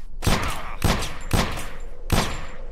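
Four loud bursts of raider gunfire in the zombie survival game Drive 4 Survival, each a sharp volley about half a second apart, close and punchy with no talk over them.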